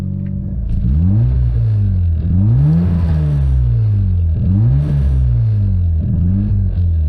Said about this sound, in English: It revs free, like it's revving good, it's just rich.